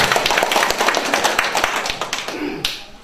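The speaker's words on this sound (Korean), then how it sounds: "크게 박수 한번 거치겠습니다." Audience applause at a high school alumni association gathering, dense clapping from a crowd filling the room for a few seconds before tapering off at the end.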